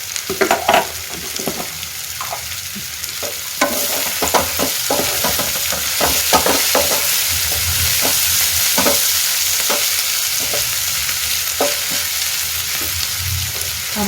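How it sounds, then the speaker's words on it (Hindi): Cauliflower stir-fried with spices in a pan gives a steady, close sizzle with repeated scraping and stirring strokes in an irregular rhythm, and no voices. "इसे अच्छे से भून लेना है कि गोभी भी कलर अपना चेंज कर ले"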